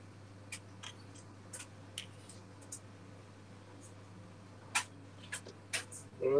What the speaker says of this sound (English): The noise you can hear behind me is the tumble dryer.